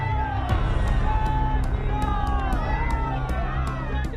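A dense crowd cheers and shouts at a BJP political road show with JP Nadda in West Bengal, a continuous loud roar of voices with whoops and whistles rising above it throughout.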